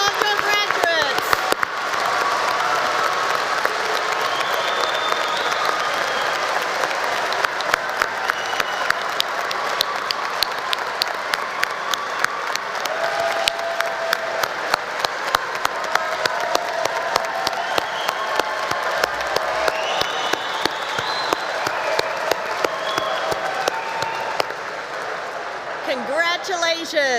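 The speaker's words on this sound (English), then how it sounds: "Family and friends, applaud your graduates" A large commencement audience of family and friends applauds College of Education graduates after the tassel turn, with sustained dense clapping and some cheering lasting nearly half a minute at steady loudness.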